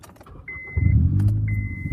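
A manual-transmission car started with a key: a short crank catches into a loud engine idle, with a faint electronic chime tone above it and no talking.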